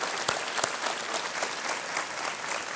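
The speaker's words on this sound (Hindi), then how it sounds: "एक बार तालियों के साथ उनके पतिदेव को स्वागत किया जाए।" An audience on the Hindi game show KBC claps to welcome a contestant's husband, a steady burst of applause with a few sharper claps standing out, fairly near and without talk.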